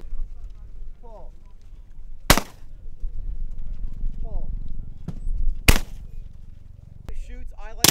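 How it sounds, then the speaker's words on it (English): A Browning 725 shotgun fires three loud, sharp blasts spaced a few seconds apart at an outdoor media-day shooting range, with people talking between the shots. "Overall, a very good shooting gun."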